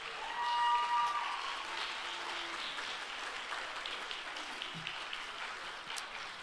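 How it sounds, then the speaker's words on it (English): Audience applause at a junior high school spring band concert, a sustained wash of many hands clapping that peaks early and then holds steady. "Give them a round of applause."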